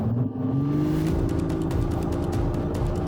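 Lexus GX 550 petrol car accelerating under firm throttle, a close engine note rising in pitch over about three seconds with a whirring drone and steady mechanical roar.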